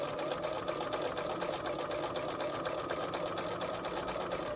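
A sewing machine stitches bias binding in a fast, even, continuous run of needle strokes, close and steady throughout with no pauses.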